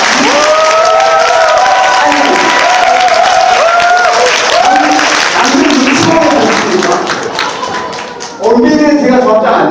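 Applause from an audience at an apartment reconstruction briefing in Korea, dense and sustained, under a voice speaking over it, dipping briefly near the end before swelling again.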